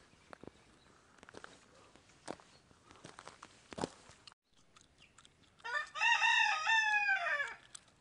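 Chickens at a volunteer-run bear sanctuary in Kuterevo, Croatia, scattered soft clucks and footsteps, then a loud, near rooster crow lasting about two seconds near the end.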